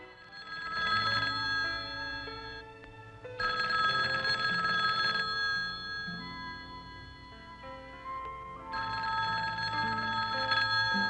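An old telephone bell rings insistently in repeated bursts, a bright metallic jangle with brief pauses between rings, prominent and fairly close against a faint musical background.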